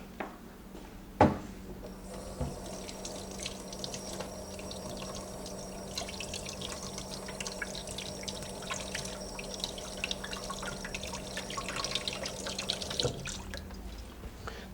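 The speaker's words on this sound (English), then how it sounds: "Now all I need to do is run it under some cold water." Raw shrimp rinsed under a cold running kitchen tap, a steady broadband water stream with splashing and dripping against the sink, constant and fairly close, with one sharp clunk near the start and no talking.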